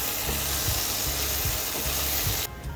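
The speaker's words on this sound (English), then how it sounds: "After adding the tomatoes, I'm now going to fry this for another 2 minutes." Chopped tomatoes fry with ginger garlic paste for a chicken bhuna, giving a steady close sizzle and hiss with a few soft stirring bumps, then a slightly quieter stretch near the end.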